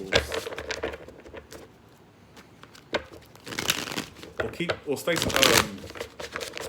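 Cards being shuffled in quick riffling bursts, crisp and close, with a quieter stretch in the middle before louder shuffles, and faint talk underneath.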